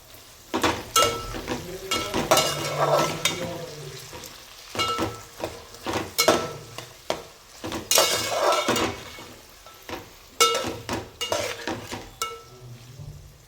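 Coarsely crushed garlic and ginger fry in a pan for matar pulao, a steady sizzle under repeated clanking and scraping of a spatula against the pan, with bursts of stirring that come and go throughout.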